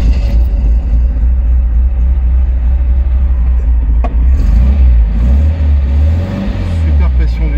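The engine of a 1972 MG MGB roadster runs with a loud, steady low rumble and a slight rev near the end, with someone talking over it.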